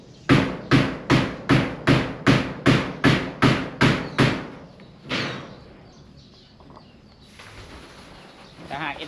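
Nails driven into corrugated zinc roofing sheets for a bathroom roof in rural Thailand: about a dozen loud, evenly paced hammer blows ring out in a steady rhythm, then a single later strike and quieter handling noise.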